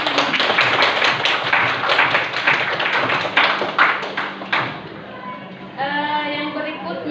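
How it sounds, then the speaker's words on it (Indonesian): A classroom group in Indonesia claps for a presenter in a steady burst of hand claps lasting about five seconds, then the applause stops and someone speaks. "Kita beri aplaus dulu Nurul Mutia."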